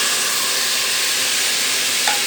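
Masala sizzles and fries in a pan while being stirred for aloo gosht, a steady, close, hissing crackle that carries on unbroken with no voices.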